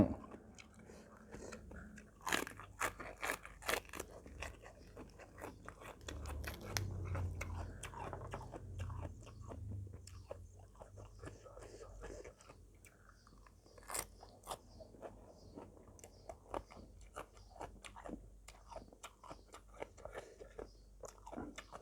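Crispy Thai snacks, fried noodle crackers and pork sausage, crunch between the teeth close to the mic, with irregular sharp bites and chewing, soft handling noises and faint whispers in between.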